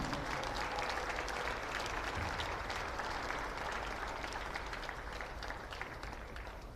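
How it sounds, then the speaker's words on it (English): A basketball arena crowd at a women's game between MSU Billings and Central Washington gives breast cancer survivors a long, steady round of applause, dense clapping that holds without a break. "Let's give our breast cancer survivors one last round of applause."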